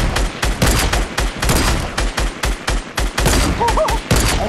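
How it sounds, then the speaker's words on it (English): Gunfire crackles in a Fortnite battle, a dense run of loud, closely spaced shots and impacts that keeps going without pause. "Oh, they're sniping."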